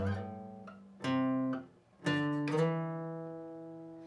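Slow guitar solo phrase on the low strings: several picked notes with slides between them, ringing close and alone, with clear attacks roughly every second and a long fading tail.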